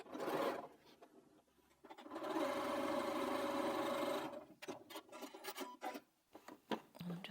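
A sewing machine stitches patchwork fabric for Halloween pinwheel pumpkins, running in one steady, close burst of about two seconds, then giving way to quieter rubbing and handling noises.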